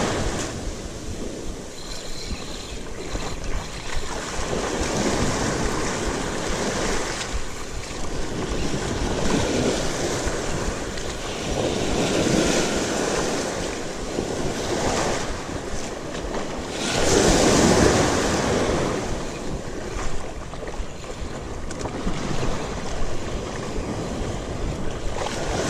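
Sea waves rolling in at the shore. A continuous loud surge that swells repeatedly, with heavier breaks along the way and wind buffeting the microphone.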